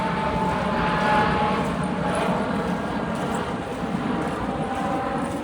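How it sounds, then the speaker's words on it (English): An airplane passes overhead as a steady, broad roar heard from a distance outdoors, mixed with faint rhythmic clopping. "You're hearing an airplane."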